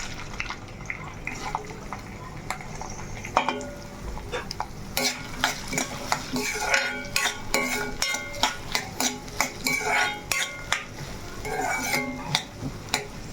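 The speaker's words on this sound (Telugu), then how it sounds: "ఉల్లిపాయలు వేసేసుకుందాం" Onions go into a well-seasoned kadai with a single chilli and are stirred for chicken biryani gravy, giving a busy run of metallic scrapes and clinks over steady frying, the strokes growing regular and rhythmic toward the end; no one speaks.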